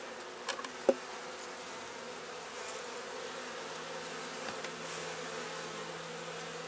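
Honeybees buzz in a steady, continuous drone around a hive's top feeder holding a few hundred bees, with a couple of faint knocks early on.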